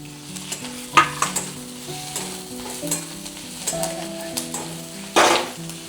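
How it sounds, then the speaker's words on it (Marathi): Garlic tossed into fried onion for a spicy mutton sukka, loud sizzling with stirring and a sharp hiss burst as it hits the pan, accompanied by a melodic background music track. "चला आता आपला कांदा पण चांगला परतून झालाय आणि त्याच्यातच आपण हे लसूण पण टाकून देणार आहे"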